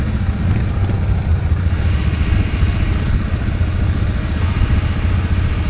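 A BRP 1000 ATV quad bike engine drives steadily nearby, with a continuous loud low rumble and slight rises in revs; no talking.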